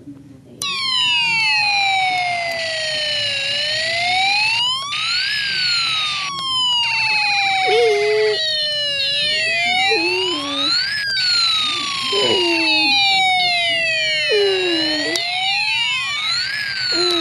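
Snap Circuits electronic kit playing its space war and alarm sounds together, loud continuous sweeping siren tones rising and falling in repeated arcs, with rapid warbling zaps layered on top throughout.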